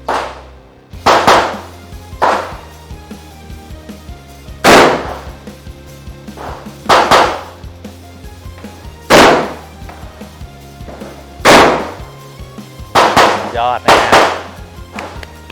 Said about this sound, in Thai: นะเลย่า AK12 นะครับพร้อมแล้ว เริ่มยิง